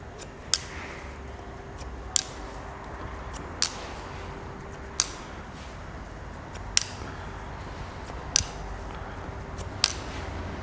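Scissors snip short hair during a vertical cross-check of a horizontal cut, giving sharp, isolated clicks about every one to two seconds over a quiet room hum, with no talking.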